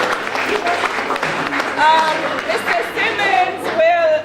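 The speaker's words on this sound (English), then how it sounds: "Let's give them a round of applause." Applause from an audience at a high school hospitality suite grand opening, crowd clapping mixed with cheers and chatter, with a voice speaking over the noise in the second half.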